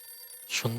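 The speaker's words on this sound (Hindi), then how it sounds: "फोन उठाइए टप्पू के पापा।" A telephone starts ringing partway through, the tone strong and bright in the later half after near-silence, in a sitcom household scene.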